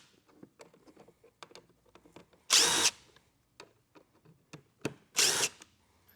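A power drill or driver on a '24 Ski-Doo Freeride Turbo 146 snowmobile during installation of a heavy duty air intake kit, two loud, short whirring bursts between small clicks and handling noises in a quiet shop.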